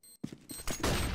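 A flashbang grenade detonating in a tactical shooter game: a brief ringing tone, then a sharp bang that opens into a loud, sustained roaring burst.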